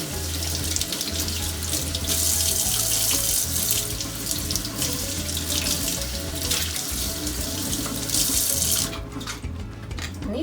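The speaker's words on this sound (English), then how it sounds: "So I'm going to give these a little rinse as well." Carrots rinsed under a running kitchen tap, a steady splashing stream of water that runs for about ten seconds before cutting off near the end, with no talking.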